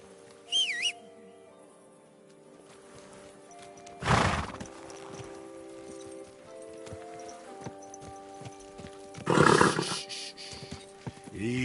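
A horse in Kingdom Come: Deliverance II lets out two loud, close whinnies several seconds apart, with soft clip-clop and ambient game sound and music in between.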